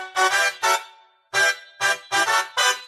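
A Yamaha Montage M synthesizer's chord trigger plays rhythmic chord stabs: six short, bright, sustained chords in a syncopated pattern with brief gaps, clear and alone.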